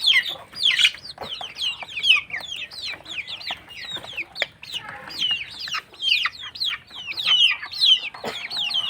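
Chickens in a cage on a poultry farm cluck repeatedly, a busy chorus of sharp, chirpy calls from several birds, close and fairly loud, with no pause across the whole stretch.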